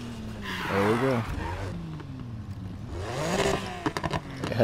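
A 2016 Volkswagen Golf GTI Clubsport engine in Need for Speed Heat revs up and down in sweeping waves, rising and falling in pitch under a person talking.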